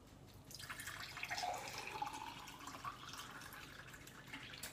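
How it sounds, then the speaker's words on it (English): Water trickles and splashes steadily for several seconds, faint and fairly distant, with no voices. "Pouring water, pouring water, pouring water."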